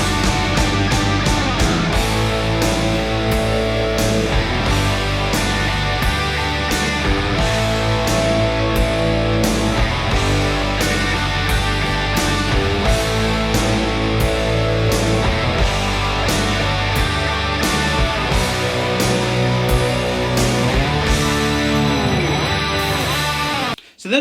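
Electric guitar in standard tuning plays the intro and chorus of a song, with strummed chords ringing loud and close at a steady, unbroken level before cutting off sharply at the end.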